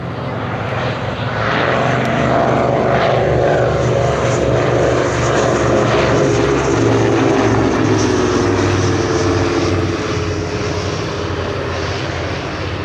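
A de Havilland Dragon Rapide propeller biplane flies past at a Shuttleworth Fly Navy airshow, its engines giving a loud, steady droning roar that holds throughout with a slight rise and fall in pitch.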